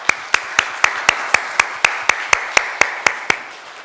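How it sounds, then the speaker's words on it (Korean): A church congregation claps in thanks during a Sunday service, a crisp, evenly spaced run of about fifteen loud claps in a steady beat, close and clear, fading slightly at the end. "이들을 위해서 감사의 박수 한번 하겠습니다."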